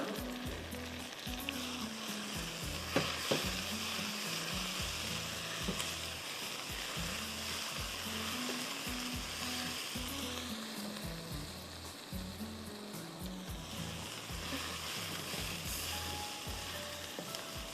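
Garlic sizzles while frying in a pan during home cooking, a steady close crackle with repeated low thumps of stirring throughout, and no talking.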